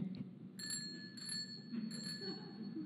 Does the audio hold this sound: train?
no